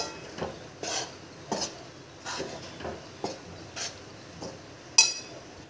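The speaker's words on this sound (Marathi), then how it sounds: "आता यामध्ये आपण भाजूया. गॅस कमीच ठेवायचा आहे" Gram flour roasting in ghee over a low gas flame for besan mawa barfi, with a spoon or spatula scraping and stirring the pan in soft, regular strokes about every second, ending on one sharper clink.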